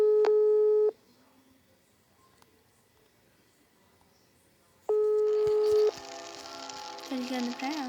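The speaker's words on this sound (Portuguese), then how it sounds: "Tô ligando pra ela." Phone ringback tones while calling someone: two steady beeping tone bursts, one at the start and another near five seconds, separated by quiet, with faint background noise and rustling after the second tone.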